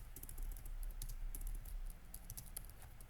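Rapid typing on a computer keyboard while editing text for a Shopify store, quick light key clicks in an uneven stream, close and fairly quiet, with no talking.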